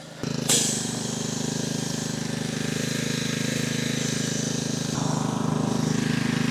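A pressure washer runs with a steady droning motor and hissing spray as soap is sprayed from a couple of feet away onto the radiator of a Polaris off-road vehicle, continuous and loud throughout.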